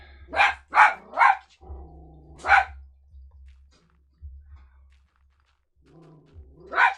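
A dachshund named Maddie lets out a quick run of three loud barks, then another, with growly low whines between and a final bark after a pause, nearby indoors.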